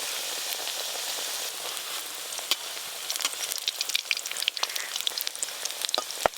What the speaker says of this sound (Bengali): প্রথমে পোস্তুর বড়াগুলো ভাজবো। তিলের বড়াও দুটো দিয়ে দেবো।